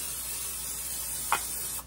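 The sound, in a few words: spraying cooking oil into a skillet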